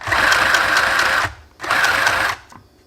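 A mini sewing machine stitches fabric in two steady bursts of rapid, even mechanical chatter, close and loud, with a brief pause between them and no voice over it.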